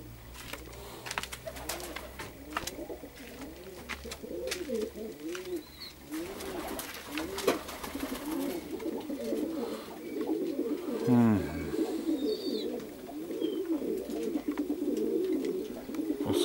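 Perm pigeons coo in a series of low, rolling calls, near and fairly steady, over outdoor background noise with a few sharper clicks and chirps.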